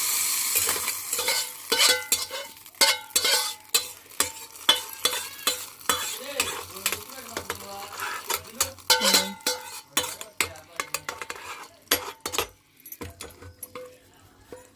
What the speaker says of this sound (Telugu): ఒక గెంట తీసుకొని తిప్పుకుందాం